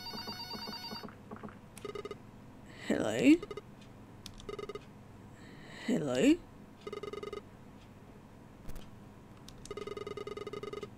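A telephone in the video game Red Bow rings repeatedly in short trilling bursts separated by pauses, while a person speaks briefly between the rings.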